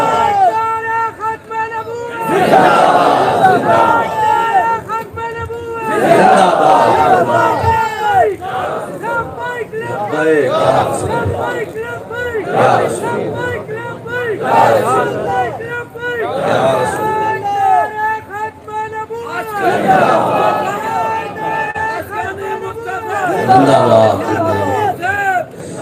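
A large rally crowd chants slogans in loud repeated call-and-response bursts, roaring together in waves roughly every four to five seconds, close and dense throughout.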